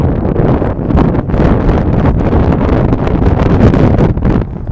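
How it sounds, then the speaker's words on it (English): Heavy wind buffets the microphone, a loud continuous low rumble with gusty fluctuations throughout. "Sorry about the wind, guys, if there is any."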